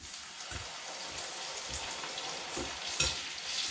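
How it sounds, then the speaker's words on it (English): Hot oil poured over chili and garlic for chili garlic oil crackles and sizzles quietly, with soft scraping stir noises and a brief brighter burst near the end. "So pour some of your oil in, mix it up, get that oil around."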